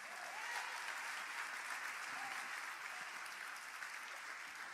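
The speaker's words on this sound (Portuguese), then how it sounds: "Você pode dar aplauso a Jesus?" A church congregation applauds in a continuous, even wash of clapping, heard faint and distant.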